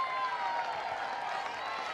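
A college softball crowd at a Florida Gators versus Mercer Bears game claps and murmurs steadily after a foul ball, a broad wash of applause under a commentator's voice.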